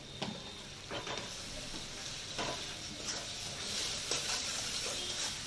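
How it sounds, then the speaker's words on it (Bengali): Spice masala with sugar is sautéed in a pan, giving a soft continuous sizzle with occasional faint scrapes from stirring, quiet and close. "মশলাটাকে ভালো করে কষিয়ে নেব।"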